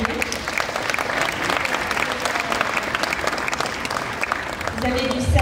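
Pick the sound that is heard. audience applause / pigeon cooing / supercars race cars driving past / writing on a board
audience applause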